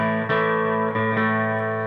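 Electric guitar run through a slapback echo pedal, sustained chords with crisp attacks at a few moments, each quickly doubled by a short echo; loud, clean and alone with no talk.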